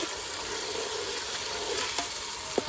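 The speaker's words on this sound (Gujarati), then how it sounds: "હવે નાખી દીધી છે ડુંગળી" Onions sizzle steadily in a hot pan just after being added, a continuous close frying hiss broken by a couple of sharp clicks near the end.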